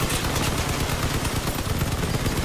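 Rapid machine gun fire in the Crossout vehicle combat game, a dense unbroken stream of loud, close shots that lasts the whole stretch with no talking.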